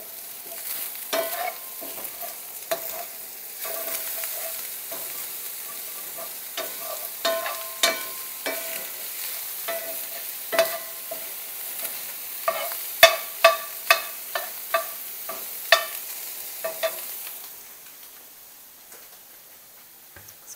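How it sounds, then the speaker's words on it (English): Sausage frying in a pan on a stove while being stirred, with a quiet steady sizzle and a series of sharp scraping clicks from the utensil, growing more frequent toward the end. "Let me stir the sausage on the stove"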